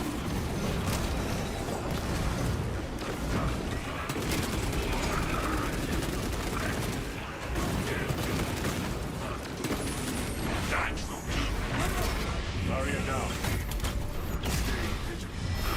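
Rifle fire in a video game, heavy plasma weapons among it, comes as dense, continuous bursts of shots mixed with clanking mechanical noise. It stays loud and busy throughout with no pauses.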